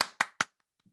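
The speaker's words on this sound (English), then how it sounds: "So everybody give them a round of applause." Three quick, close hand claps in an even rhythm, followed by a couple of faint taps, as a brief round of applause during an online talk on product culture.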